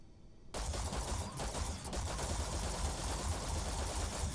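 A Plasma Laredo gun in the Starfield game fires rapidly, a dense, steady stream of shots that kicks in abruptly after a short quiet lead-in and carries on at an even rhythm.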